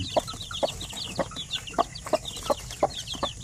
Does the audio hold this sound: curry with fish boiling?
no